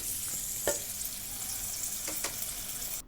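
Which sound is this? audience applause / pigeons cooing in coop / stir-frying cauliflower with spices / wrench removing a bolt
stir-frying cauliflower with spices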